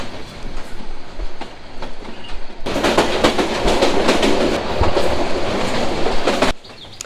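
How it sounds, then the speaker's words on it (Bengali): A train rumbles and clatters along the rails on a journey to Sylhet, steady rhythmic clacking that swells louder midway, then cuts off abruptly near the end. "আমাদের ট্রেনটি ঝকঝক করতে করতে হেলে দুলে চলছিল"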